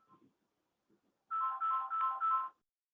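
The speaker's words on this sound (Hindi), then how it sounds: "एक फोन आ गया." A phone ringtone sounds during a classroom lecture, a steady melodic tone repeating in four connected bursts lasting about a second and a half, fairly loud and clear after a couple of soft murmurs.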